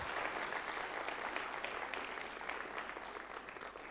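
An audience at an education talk show in Madhya Pradesh gives a steady, dense round of applause to welcome a cabinet minister, holding loud and even throughout with no voices standing out.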